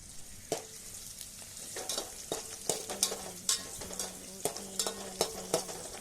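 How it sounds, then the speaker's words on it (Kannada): Chopped onions fry in hot oil for upma, a constant sizzle broken by a regular rhythm of spoon-against-pan stirring scrapes, close and clear. "ಈಗ ಸ್ವಲ್ಪ ಫ್ರೈ ಮಾಡೋಣ"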